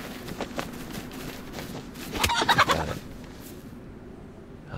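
Chicken clucking in the video game DayZ, a short burst of loud squawking clucks in the middle, surrounded by footsteps and game noise.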